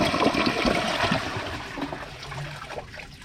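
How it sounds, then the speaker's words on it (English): A 2009 Kohler Wellworth Class 5 toilet flushes with a dry bowl: a close, continuous rush of water that slowly eases without fading out, and no voices. "Here's a flush with a dry bowl."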